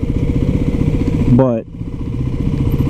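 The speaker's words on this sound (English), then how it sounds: "I'm riding a supermoto" A 2023 Kawasaki KLX300SM supermoto motorcycle runs with a loud, close, throbbing single-cylinder engine note, briefly revving up and then dropping off, while a rider speaks a word over it.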